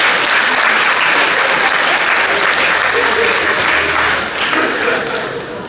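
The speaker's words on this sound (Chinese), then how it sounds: "掌声鼓励。" Wedding dinner guests break into applause, a loud, steady wash of many hands clapping together that eases off slightly near the end.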